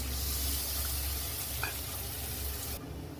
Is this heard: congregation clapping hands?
no